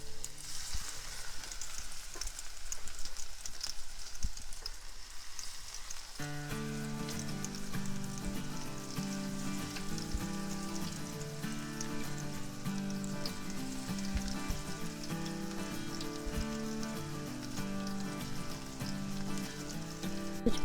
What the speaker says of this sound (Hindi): तेल हमारा हो चुका है बिल्कुल गर्म और अब मैं एक एक करके पकौड़े डालती जाऊंगी